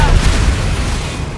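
Bombarda and Confringo spell blasts in the Hogwarts Legacy video game, a loud booming burst of low rumble that swells at the start and then rolls on as a dense, sustained blast.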